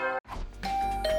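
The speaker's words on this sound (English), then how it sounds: "my doorbell started ringing" A doorbell in the video game The Hundred Line Last Defense Academy gives a short ding-dong chime over game music, clear and close.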